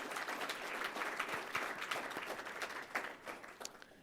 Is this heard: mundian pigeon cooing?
no